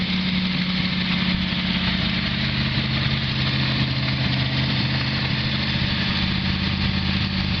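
A G-body Oldsmobile Cutlass idles through its exhaust pipes, giving a steady, loud, low rumble with an even throb that holds unchanged throughout, heard up close with no talking.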